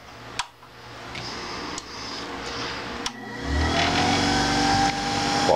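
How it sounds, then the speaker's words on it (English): A rock cutting, grinding and polishing machine's motor, fed through a variac, starts after a few sharp clicks and climbs into a louder rising hum, close by with no talk. "And we'll run the motor on the variac."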